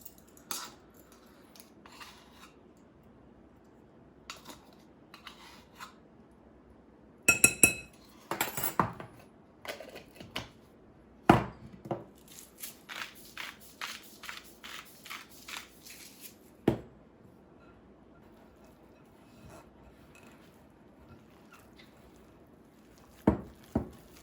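A utensil scrapes and clinks against a bowl while almond flour keto bagel dough is mixed, coming in irregular bursts of tapping and scraping with quiet pauses between, close and fairly soft.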